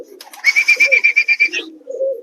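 A loft pigeon gives a loud, close, rhythmic coo, a run of about ten quick pulsing notes in one phrase, followed by softer low murmuring from nearby birds.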